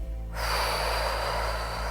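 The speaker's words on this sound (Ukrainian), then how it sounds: "І останнє повторення глибокий вдих." During a breathing exercise, one long, deep, audible breath is drawn close to the microphone. It begins suddenly after a quiet moment and continues steadily as a rushing airflow over a low background hum.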